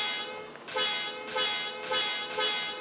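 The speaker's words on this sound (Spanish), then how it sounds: "Y aquí miren esa bocina." Bus horn in Es Bus Simulator ID 2, sounding in four short repeated honks with brief gaps between them, loud and alone without speech.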